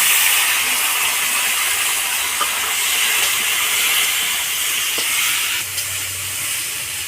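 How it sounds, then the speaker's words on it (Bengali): Potatoes and giant taro frying in a pan with cumin seeds and dried red chillies, a steady loud sizzle and hiss that runs unbroken throughout with faint clinks. "মান কচুটা আলুর সঙ্গে একটু হালকা করে ভেজে নিই।"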